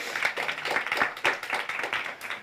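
Audience applause after a startup pitch at a TechHub conference, a dense steady patter of many hands clapping for a couple of seconds with no talk over it.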